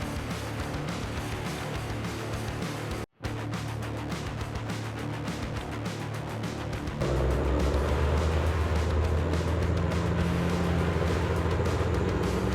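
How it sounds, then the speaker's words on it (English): A heavily loaded log truck churns along a muddy, slippery forest road in the rainy season, its engine roaring continuously, briefly cutting out, then returning as a louder, deeper drone. "the roaring engines shatter the silence of the forest"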